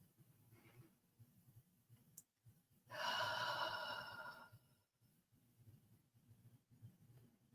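A single deep, slow breath during a quiet guided meditation, a soft, airy exhale of a second or two that stands out against near silence and faint room noise.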